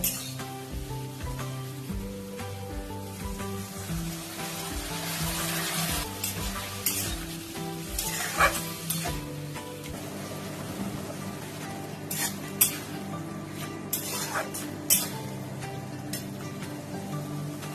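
Water poured into a hot pan of dried loitta fish set off a loud, continuous sizzle with stirring scrapes, settling into an active bubbling fry with sharp clinks of a utensil against the pan.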